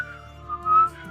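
A man whistles softly, a short wavering tune slipping around on its pitch while he creeps away trying to look innocent.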